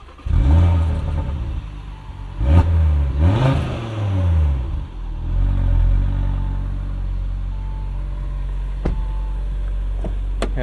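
A 2022 Audi RS 3 engine in dynamic mode blips through several loud revs, rising and falling sharply, then settles into a deep, steady rumbling idle with a couple of faint clicks, close by.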